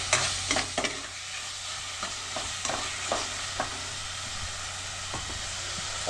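Chicken fries in a covered pan with a steady, even sizzle, broken by scattered clicks and light knocks of the lid or utensil.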